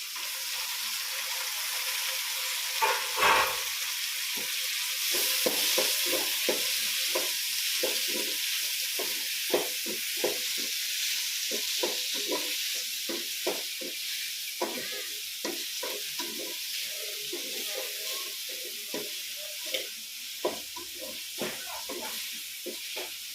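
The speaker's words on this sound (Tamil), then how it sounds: "நல்லா வெங்காயம் தக்காளி வந்து நல்லா வணக்கிடுது" Onions and tomatoes sautéing in a pan for Indian egg gravy: a continuous sizzle with repeated scraping strokes of a spatula stirring, close and fairly quiet, no talking.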